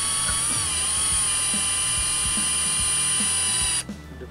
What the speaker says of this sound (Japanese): ドライバーで釘じゃなくてやっぱビスでステンレスですね